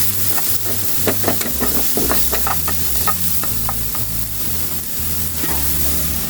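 Vegetables with carrots being stirred in a frying pan for vegetable fried rice, with a steady sizzle and repeated scraping strokes of the spoon against the pan, close and continuous with no talk.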